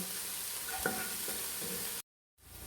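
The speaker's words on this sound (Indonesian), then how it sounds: "Masukkan kayu manis, kardamon, dan terus aduk sampai bumbu yang dihaluskan tadi mengeluarkan bau harum." Ground spice paste with cinnamon and cardamom fries in a pan for chicken curry with spinach, a steady quiet sizzle with a few soft scrapes of stirring before a sudden cut to silence and back.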